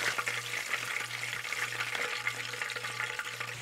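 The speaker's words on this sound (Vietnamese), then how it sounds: "Chiên đến khi nào các bạn thấy sườn xém vàng như vậy là được ha." Pork ribs frying in oil in a pan, a steady dense crackling sizzle with bright popping spatters, close and continuous, with a low hum underneath and no talking.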